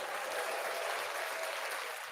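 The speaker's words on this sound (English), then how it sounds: "Thank you for the round of applause, my brother." Steady audience applause fills the whole stretch, a dense, even wash of many hands clapping at moderate volume without pauses, as a guest is introduced on a live sports talk show.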